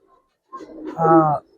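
A Giribaz pigeon, an old-breed flying pigeon, gives one close, clear throaty coo that swells and holds for about a second before cutting off into quiet.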